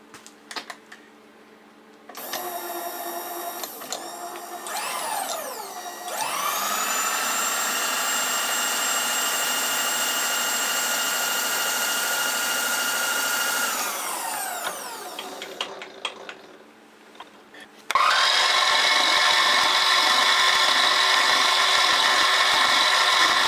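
A milling machine cuts down a small part for a model steam engine's governor mechanism. The spindle and cutter whine steadily as the cut runs, and the pitch shifts between passes.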